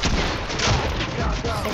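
Gunfire in the video game Fortnite from a newly bought gun being tested: a loud, dense, continuous burst of rapid shots filling the moment, with no pauses between them.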